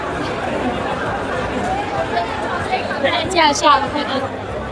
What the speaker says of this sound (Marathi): खूप गर्दी आहे लांबपर्यंत